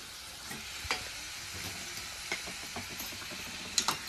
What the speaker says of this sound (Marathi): जे दोडका आपण चिरून घेतलाय ते धुवून पण घेतलाय आणि ह्या तेलामध्ये आता टाकून घेणार आहे।